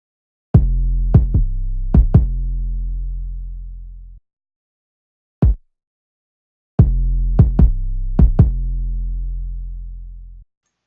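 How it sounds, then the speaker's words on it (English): Deep, booming 808 bass notes with sharp kick drum hits layered on top, made in FL Studio, played in a short pattern that repeats after a single isolated hit. "They just put the kick on top of the 808 and leave it like that."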